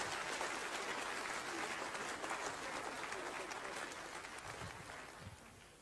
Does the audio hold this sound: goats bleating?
no